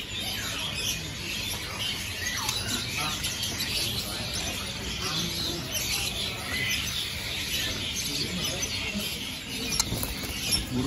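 Caged birds at a bird-selling kiosk chirp and squawk in scattered bursts, with a busy murmur of people talking nearby.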